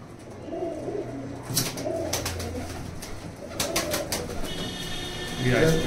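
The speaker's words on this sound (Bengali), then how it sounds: "এই হচ্ছে মাদা পায়রাটা। মাদাটা ডিমে বসে আছে।" A hen pigeon sitting on eggs gives low, rolling coos at close range, interrupted by clicks and handling noise, with a brief voice near the end.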